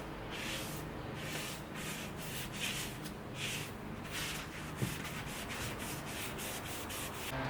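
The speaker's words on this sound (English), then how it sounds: "I'm just wiping away the excess stain." Cloth wiping excess Minwax dark walnut stain off a wooden chair: soft, steady rubbing strokes close by, quiet and rhythmic, with no talking.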